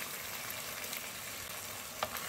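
Sweet and sour sauce sizzles steadily with spareribs in a pan, a constant dense hiss with a few faint clinks from stirring.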